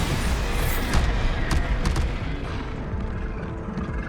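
Bombarda explosion spells crackle and boom in a Hogwarts Legacy battle, a dense, loud run of blasts and debris with sharp cracks near the start, fading a little toward the end.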